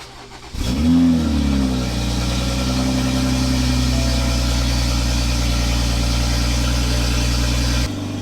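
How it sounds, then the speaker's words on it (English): Toyota MKV Supra engine starting with a sharp catch and quick rev flare, then settling into a loud, steady, rumbling idle through the exhaust for several seconds before cutting off. "I don't know how well you can hear me over the exhaust, but obviously the car is started"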